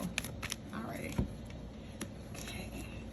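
Tarot cards being shuffled by hand, a few soft, close riffling and flicking bursts, quiet and brief, with light handling noises between them.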